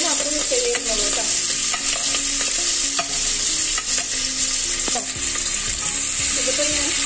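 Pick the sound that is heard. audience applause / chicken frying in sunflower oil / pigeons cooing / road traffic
chicken frying in sunflower oil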